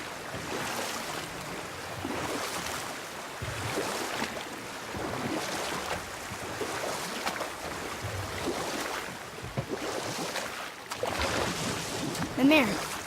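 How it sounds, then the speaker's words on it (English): In God of War 4 gameplay, a boat is rowed across open water with steady splashing and sloshing waves over wind-like noise, faint voices mixed in throughout. "Keep rowing towards the statues of the oarsmen"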